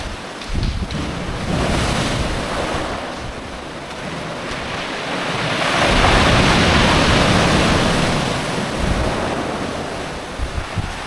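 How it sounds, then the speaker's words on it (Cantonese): Big sea waves crash on a rocky coast as the tide rises, a loud, continuous roar of surf that swells and ebbs, mixed with wind buffeting the microphone. "好大浪，唔可以行得太前。"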